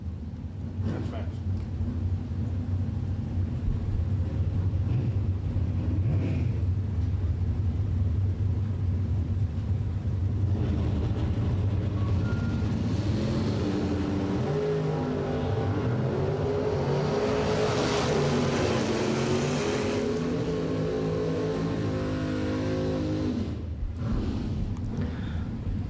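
Drag racing cars roar down a bracket-racing strip, a Mopar in the left lane against a non-Mopar in the right, a loud steady engine rumble that swells as they pass, with an announcer talking over it.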